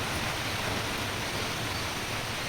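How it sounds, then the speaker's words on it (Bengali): Steady, even rain hissing without a break, fairly soft and close, with no voices over it. "সকাল সকাল আবারও বৃষ্টি নেমে গেছে"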